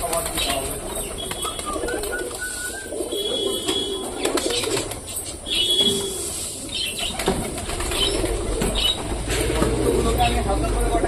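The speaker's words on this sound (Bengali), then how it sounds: "অনেক পায়রা নিচে নেমে গেছে, আবার অনেক পায়রা চালের উপরে রয়েছে" A flock of pigeons coos in overlapping low calls while being fed on and around a rooftop, mixed with wing flaps, light scuffling and faint chirps, fairly close and continuous.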